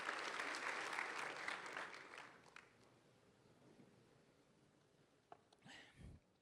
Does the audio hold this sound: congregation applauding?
yes